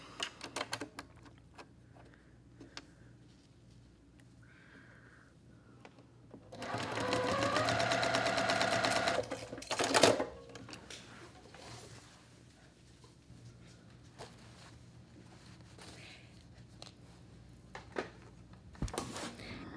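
A sewing machine stitching a quilt block runs in one steady, rapid, mechanical burst of about three seconds, loud and close, amid quiet handling clicks and rustles.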